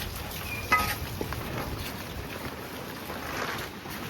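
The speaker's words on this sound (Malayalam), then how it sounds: "നല്ല കാറ്റാണ്" Strong wind blows outdoors during light drizzle, a steady broadband rushing roar buffeting the microphone, with one brief thump near the start and gusts swelling slightly toward the end.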